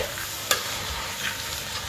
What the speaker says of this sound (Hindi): अब हम इसे मिक्स कर लेते हैं।